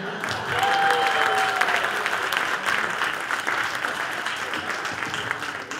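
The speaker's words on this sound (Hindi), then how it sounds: "आपको जरूर से जरूर तालियां बजानी चाहिए" A crowd at a live singing show claps together in sustained applause, loud and full throughout, with a bit of crowd noise and a faint voice briefly audible under the clapping.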